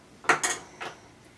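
Measuring cups knock and clatter against each other while being handled for a puppy chow recipe, giving three brief close clinks, two quick together and a third after a short pause, with no talk.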